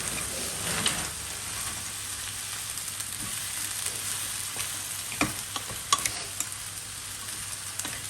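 Frozen green beans frying in a pan with garlic, a continuous close hiss of sizzling oil with scattered crackles and a few sharper pops, no talk.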